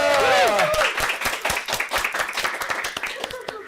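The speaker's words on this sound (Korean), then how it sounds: "우리 한번 큰 박수 한번 해드릴게요." A church congregation of about a hundred people in Bucheon, South Korea bursts into lively applause for a birthday, with dense rapid clapping rising under a voice and cheers, then thinning toward the end.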